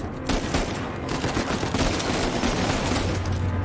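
Rapid gunfire rattles in dense, overlapping bursts during a firefight in the video game Uncharted, loud and close, continuing steadily without pause.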